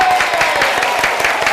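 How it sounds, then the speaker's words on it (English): A studio audience applauds on a local TV show in Baton Rouge, with dense, steady clapping close and loud for a moment, a faint voice or tone running underneath. "Give them a round of applause, will you?"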